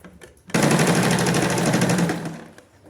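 Sewing machine stitching a zip into trousers, running in one steady fast rattling burst of about two seconds after a brief quiet start, close and loud.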